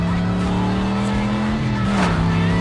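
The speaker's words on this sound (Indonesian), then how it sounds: "Dia langsung memacu mobilnya hingga sampai di sebuah kota." A car speeds away in a film scene, its engine loud and steady with a rising whine and a brief tire squeal near the end, with no pause in the roar.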